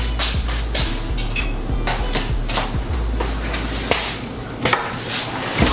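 A knife and fork cut through a large plate of food with queso, giving repeated close clinks and scrapes against the plate in an uneven rhythm, with no talking.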